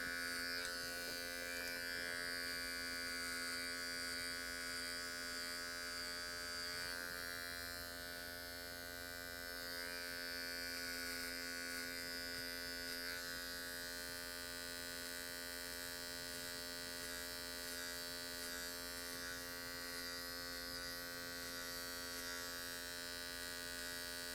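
Electric hair clipper during a medium skin fade haircut, buzzing steadily and continuously at close range with a constant tonal hum, alone without talk.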